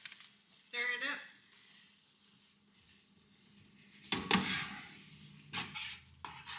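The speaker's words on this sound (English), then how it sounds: "A little bit more cheese. A lot of it. Stir it up." Food sizzles and frying in a pan as cheese is stirred in, with short scraping bursts of the spoon against the pan near the start and again toward the end, fairly close and moderately loud.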